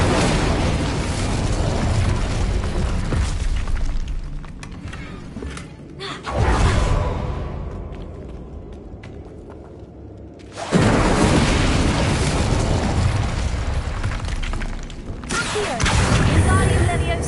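Incendio fire spell cast in the wizarding game Hogwarts Legacy: loud whooshing, booming bursts of flame in two or three surges, with a voice calling out over them.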